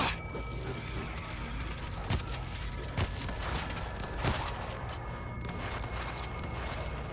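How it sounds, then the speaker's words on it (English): Several sharp gunshots crack at irregular intervals over a low, steady background rumble, with no voices, in the video game World War Z, Tokyo level. "That's gunfire! From the bus!"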